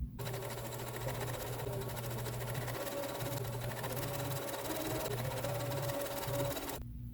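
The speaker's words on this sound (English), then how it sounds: "So I'll just match them up like that and take them to my sewing machine." A sewing machine stitches quilt pieces steadily at close range, a continuous mechanical whir with a low buzzing tone, running without pause.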